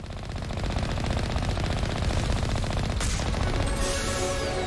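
Sustained automatic gunfire in Mass Effect Legendary Edition, a dense rapid stream of shots that runs continuously and loudly throughout, with a sharper burst partway through and no talk.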